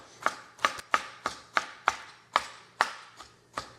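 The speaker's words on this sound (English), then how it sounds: "So I just want to really kind of chop it up." A knife chops a pear on a cutting board in eight sharp, evenly spaced knocks, close and crisp, with no voices.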